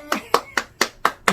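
At a Sunday church service, the congregation claps in a steady rhythm for a birthday blessing: six evenly spaced, crisp claps, close and fairly loud.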